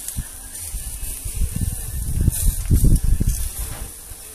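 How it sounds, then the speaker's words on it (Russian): Shashlik kebabs sizzling and crackling on a grill at a country dacha, with soft hissing and irregular pops close by, growing busier toward the middle. "Шашлычки жарятся."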